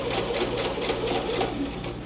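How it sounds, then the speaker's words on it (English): Sewing machine basting a set-in sleeve along its curve, a steady rapid mechanical stitching rhythm at moderate, even speed, close and continuous. "Just sew along the top of the curve."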